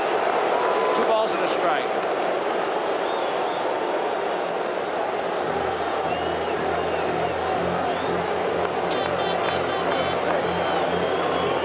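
Baseball stadium crowd at a 1980 World Series game, Kansas City Royals at Philadelphia Phillies: a steady dense roar of thousands of fans fills the whole stretch, swelling slightly with cheers while a play-by-play announcer talks over it.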